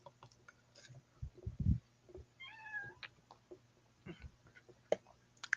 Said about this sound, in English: Don't interrupt me if you're meowing.